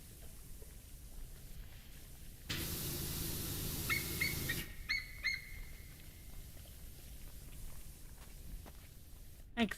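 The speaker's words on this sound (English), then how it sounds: "Like silence, and then suddenly like loud birds." Birds honk and cackle in the PowerWash Simulator video game, a burst of goose-like calls over a hissing spray, mid-level and fairly near, between quieter stretches with faint background noise.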